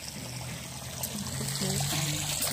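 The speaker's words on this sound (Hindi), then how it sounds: "ये पानी निकल रहा है।" Water gushes out under pressure outside a home's gate, a steady close rushing and splashing that grows slightly louder, with no talking.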